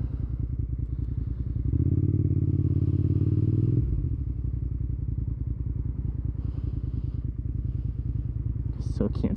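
A motorcycle engine idles close by with a steady chugging, surges into a louder rev for about two seconds, then drops back to a throbbing idle as the throttle response is adjusted.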